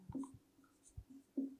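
Pen writing on paper during a Hindi grammar lesson, a few short faint scratchy strokes in an otherwise quiet room, with no talking.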